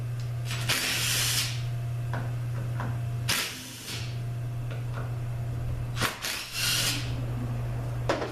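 A BMW transmission control module is loosened from the valve body with a power tool, giving several short whirring bursts separated by small clicks and clatter, close up over a constant low hum.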